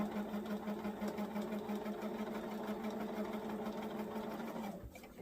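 Sewing machine stitching steadily at close range, a smooth, even motor whir with fast needle pulses that runs for about five seconds and then winds down and stops.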